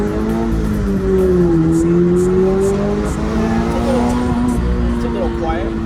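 A 2022 Subaru BRZ with a MagnaFlow catback exhaust revs hard, its pitch climbing, dipping and climbing again toward the rev limiter, loud and close with faint crackles along the way.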